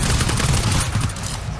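Rapid automatic gunfire in the co-op shooter game GTFO, a dense, continuous burst of shots that stays loud throughout the clip.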